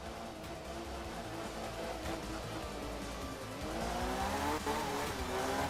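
A rally car in the Nintendo Switch video game Art of Rally snarls close up, its engine revving and dipping as tires squeal and skid through a corner, continuous with no talk.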